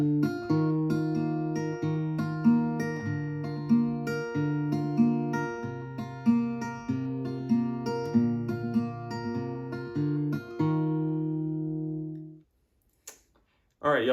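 An acoustic guitar is fingerpicked through a chord progression, steady plucked notes in an even rhythm, ending on a chord that rings out and fades.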